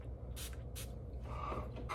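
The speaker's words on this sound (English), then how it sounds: "But let's go ahead and spray this one." A Sphinx men's fragrance bottle gives several short, sharp spray bursts in quick succession, close and fairly quiet.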